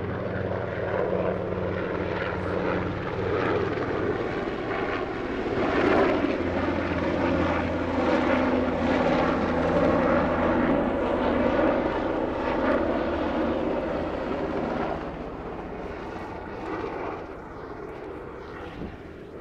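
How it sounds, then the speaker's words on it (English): Helicopter passing overhead near a bridge in Dartmouth, a loud, steady rotor and engine drone that holds for most of the stretch and then eases off toward the end. "There's a helicopter flying over."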